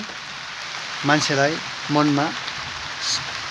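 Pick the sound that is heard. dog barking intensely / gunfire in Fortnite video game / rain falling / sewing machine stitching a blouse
rain falling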